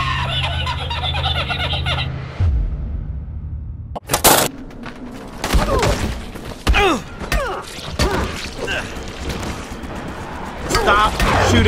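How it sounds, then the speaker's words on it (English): Gunfire in the zombie game Dying Light, a burst of sharp shots with clanking mechanical noises, mixed with excited voices talking and laughing over the game audio. "Stop shooting that gun."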